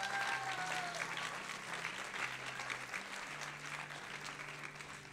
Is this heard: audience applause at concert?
yes